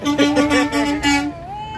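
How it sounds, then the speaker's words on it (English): A car horn honks in a quick series of short, pulsing toots, loud and fairly close, ending in one slightly longer blast, with traffic and street noise around it. "He's honking at Tesla."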